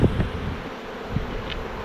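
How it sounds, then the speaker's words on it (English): Honey bees buzz around an open hive in February, a close, continuous droning hum with a few louder passes and soft knocks of hive work. "Lots of bees, as you saw."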